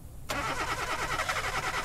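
A car engine cranks and catches abruptly in a horror video game, then runs at a steady, loud idle after the start.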